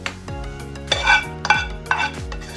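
Beans being spread with a utensil over a tortilla pie layer in a pan or dish: a few scraping, clinking strokes with a low steady hum beneath, no talk.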